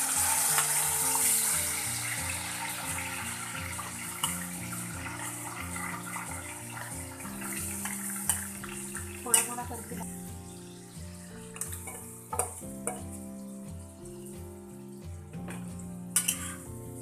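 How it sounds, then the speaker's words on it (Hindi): Chicken frying in hot oil with bay leaves and cinnamon, a steady close sizzle with occasional clinks of a utensil against the pan; no one talks over it. "अब आराम से इसमें चिकन डालना है कि ये उड़े ना।"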